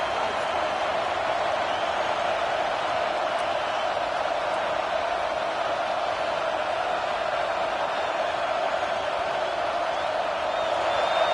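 Home crowd at an American football game roaring as the defense takes the field on third down, a dense steady wall of cheering noise with no breaks, loud and distant-sounding.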